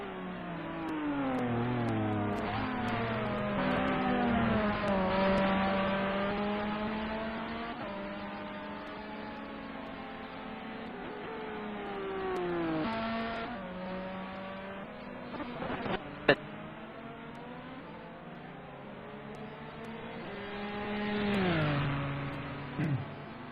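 A race car at the SSCA 10 Hours of Fuji leaves the final corner and heads into the pits, its engine revving up and down through gear changes in a high, buzzing whine, fairly distant and steady with a brief sharp click near the end.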